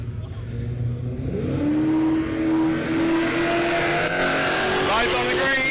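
Drag race cars launching at Willowbank Raceway in Australia, engines rising from a rumble to a sustained high roar with tire noise, loud and close, with a commentator talking over the din.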